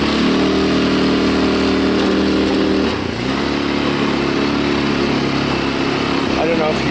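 A Tao Tao ATA150G automatic ATV engine runs loud and close in gear, droning steadily before its pitch drops partway through, with a voice talking over it.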